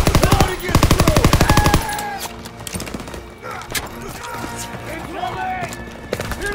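Rapid automatic gunfire from a World War II battle in the video game Call of Duty: WWII, a loud burst of fast machine-gun shots followed by scattered distant shots and battle noise under shouting voices.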